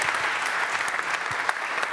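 Audience applause for panel speakers at a round-table conference, brief, dense clapping at moderate volume, steady with a few sharper claps, no voices.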